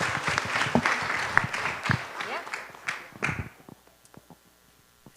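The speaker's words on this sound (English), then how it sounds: "With a little round of applause, please." A small audience at a Jain pathshala orientation claps for the class teachers, a short burst of scattered applause that thins out after a few seconds, with some talk around it.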